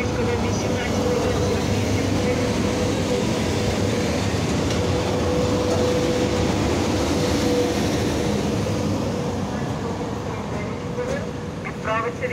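A VL80T electric locomotive pulls away from a station, its steady rumble and drone continuous throughout, with voices audible over the train noise.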